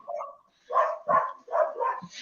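Dogs outside a home office give four sharp barks in quick succession, loud and close, after an opening yip, with no talk over them.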